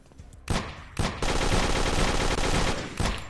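Rifle gunfire in a Unity first-person shooter game, a few loud single shots followed by a sustained rapid automatic burst that fades out, then one more shot near the end, with no talking.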